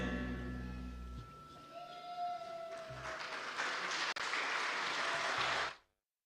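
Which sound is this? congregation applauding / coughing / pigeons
congregation applauding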